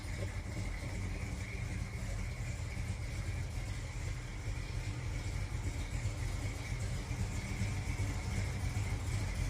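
Steady low rumble of a 1949 Chevy 3100 pickup truck's 350 V8 engine idling, faint and even with no revving, heard alone.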